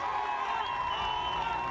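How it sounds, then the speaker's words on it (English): A large esports crowd at the Esports World Cup 2024 chants and cheers in a steady, dense roar of many voices at moderate distance, sustained without breaks. "the crowd is doing it for me right now"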